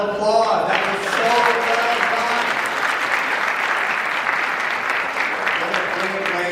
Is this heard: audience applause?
yes